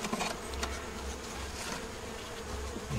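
Honey bees buzzing around a hive feeder with dry sugar, a dense close hum of many wings, steady with small swells as individual bees fly near, no voices.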